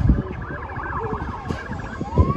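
A fire engine or paramedic siren wails in the distance with rising and falling tones, faint beneath the low rumble of a busy harbour.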